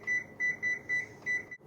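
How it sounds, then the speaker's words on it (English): A kitchen timer sounds five short electronic beeps at a steady, rapid pace, close and clear, during cooking with nothing else audible. "put the timer on."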